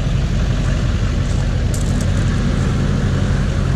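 A pickup truck with a repaired LBZ exhaust runs at a steady idle, giving a loud, close, low drone that holds evenly throughout.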